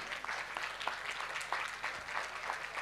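Faint, distant applause from a crowd at the Relais pour la Vie charity event in Rixensart, a steady patter of many hands continuing for a few seconds.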